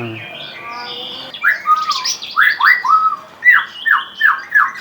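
A white-rumped shama sings a run of loud, rising whistled phrases with a few harsher squawking notes, close by and repeated in quick succession.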